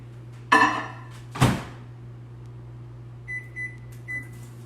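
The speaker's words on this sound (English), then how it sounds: "So I'm gonna pop this in the batter bowl in the microwave." A microwave oven hums steadily while melting Kerrygold butter in a batter bowl, with two door thunks near the start and a few short electronic beeps at the end.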